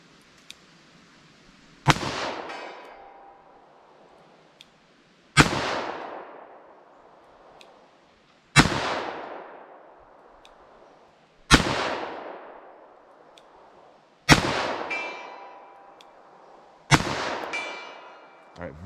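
A .38 Special +P revolver fired double action, six sharp, loud shots spaced a few seconds apart, each cracking and then ringing off slowly.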